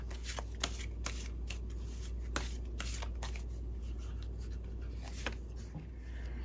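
Oracle cards are shuffled close by in a steady run of soft riffling and sliding sounds, with light papery snaps scattered through and a faint constant hum underneath.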